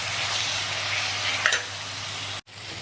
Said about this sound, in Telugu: ఇప్పుడు 2 టమాటాలు తీసుకున్నాను, టమాటా కూడా వేసి మెత్తగా అయ్యే వరకు తీసుకున్నాం